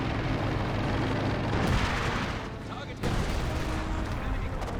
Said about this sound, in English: This gun firing away over here.